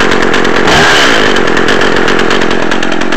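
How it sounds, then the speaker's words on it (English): A warmed-up Echo CS-330T top-handle chainsaw with a 14-inch bar runs loud and close at steady high revs, a continuous buzzing whine with no pauses. "This ecco330t top handle, 14 inch bar,"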